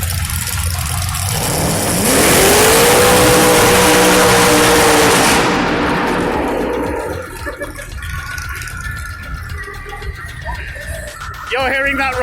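A two-seater top fuel dragster with a 9.8-litre Chevrolet V8 making 1,000 horsepower roars loudly inside an indoor arena show, its steady bellow holding for a few seconds before dropping away to the hall's echo and background voices.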